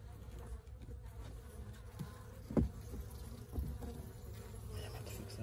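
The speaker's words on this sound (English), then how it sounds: "I don't have very many bees in here." Low honeybee buzzing hums steadily close by from an observation hive, with a couple of brief bumps and rustles, no clear speech.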